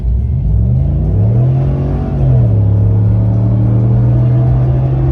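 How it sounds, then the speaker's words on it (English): A 2019 Ram Rebel pickup truck with a tuned throttle pedal accelerates hard, its engine note climbing in a steady loud rising drone that levels into a sustained rumble throughout. "So let's give it some gas."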